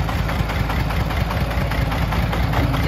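A Vietnamese công nông sand-hauling truck with a 24-horsepower engine idles loudly and up close, its steady low rumble carrying a rapid rhythmic knock throughout.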